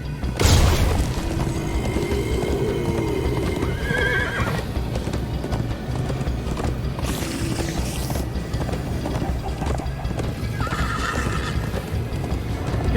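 A horse gallops with steady clip-clop hoofbeats in Minecraft: Story Mode, with a couple of whinnies and neighs over a rumbling chase, fairly close and continuous.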